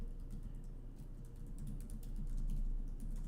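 Quick, light keystrokes on a computer keyboard tap out a short search entry in an uneven, rapid run, close and clear with no talk.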